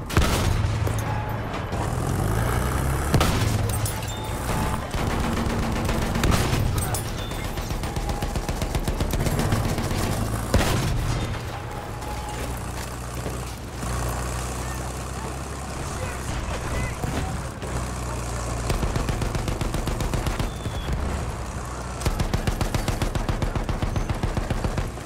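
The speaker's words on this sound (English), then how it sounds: "There's a machine gun." Machine gun fire in Battlefield 1 chatters in repeated bursts among explosions and rumbling vehicle noise, with a voice talking over the battle throughout.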